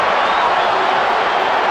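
A packed football stadium crowd at a Real Madrid versus Manchester United match roars in a steady, dense wash of noise, loud and sustained throughout.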